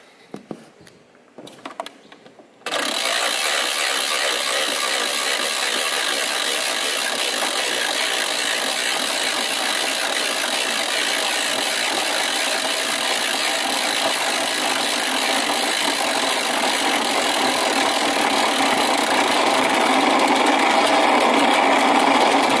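After a few faint clicks, a wound-up flywheel toy bursts into a loud, continuous high-pitched whirring spin that holds steady and grows slightly louder over about twenty seconds, with no talking.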